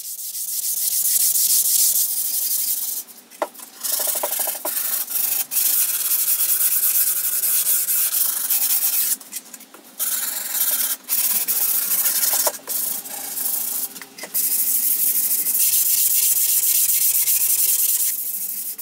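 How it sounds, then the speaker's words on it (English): A skateboard deck is hand-sanded with 220 grit sandpaper, giving loud close rasping strokes that run almost continuously with a few short pauses. "I then sand the whole board down with a final 220 grit sandpaper."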